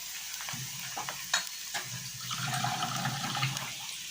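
Masala frying in a pan for Pakistani shahi kofta curry sizzles steadily and close up, with scraping stirring strokes over the hiss and no talking.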